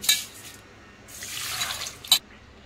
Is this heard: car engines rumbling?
no